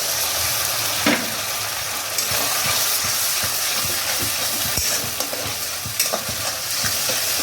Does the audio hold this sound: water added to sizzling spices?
yes